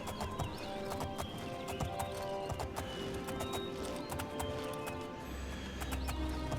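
In the Oblivion video game, a horse's hooves gallop in quick, regular clip-clop beats at moderate volume, with a brief snort or whinny and game ambience beneath.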